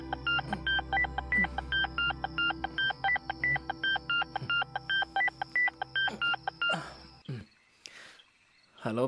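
Phone keypad tones beep in a rapid, even run as a number is dialled, with a cricket-like trill underneath, and then stop before a short pause and faint rustling.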